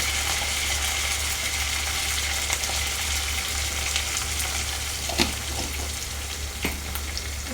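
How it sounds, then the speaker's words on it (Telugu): Onions and curry leaves fry in a pan for a potlakaaya milk curry, giving a steady close sizzle with a few sharp crackles and spatters near the end. No one talks. "కొంచెం ఆనియన్ అయితే ఫ్రై అయింది కదా, కరివేపాకు అనేది వేస్తున్నాను"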